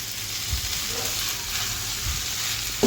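Rice and chickpeas fry together with spices in a pot for chickpea biryani, a close, steady sizzle with a few soft stirring scrapes and a brief clatter at the end, no voices.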